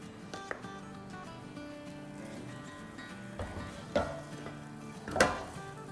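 Diced chicken is stirred through sauce in a pan. Soft scraping and a faint sizzle are broken by a few sharp utensil clinks against the pan, the loudest near the end.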